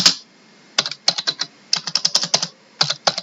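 Computer keyboard typing out an SQL query, close and clear, in quick irregular bursts of keystrokes separated by short pauses, with no talking.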